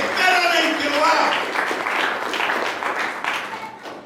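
Church congregation applauding during a sermon, with loud, dense clapping that trails off gradually while a voice talks over it.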